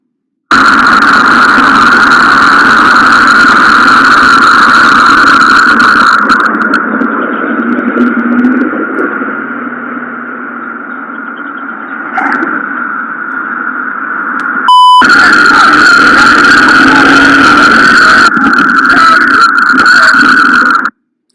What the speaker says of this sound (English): a nearby security camera recorded the deputies pulling up in a pickup truck